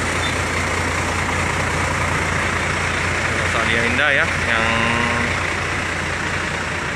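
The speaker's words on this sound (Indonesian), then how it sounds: "Ya, bus sudah dinyalakan ya." A passenger bus engine idles steadily at a depot ticket counter, a constant low rumble running throughout, with people talking over it and a brief electronic beep pattern near the middle.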